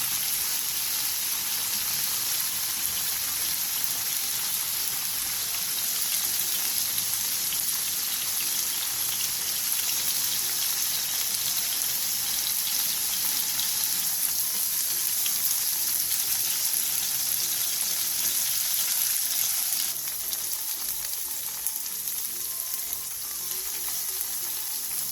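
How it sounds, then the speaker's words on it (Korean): Tofu frying in oil in a hot pan over high heat, a steady, loud, continuous sizzle and crackle like heavy rain, close up and unbroken throughout with no talking. "팬에 기름을 두른 뒤 두부를 넣고 센 불에서 앞뒤로 노릇노릇하게 구워주세요"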